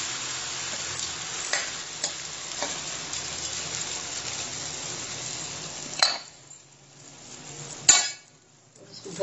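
Mustard seeds fry in oil on a tawa with a close, busy crackling sizzle for several seconds, then two sharp metallic clanks after which the frying drops much quieter.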